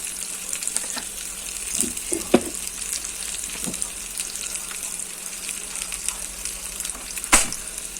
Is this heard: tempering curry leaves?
yes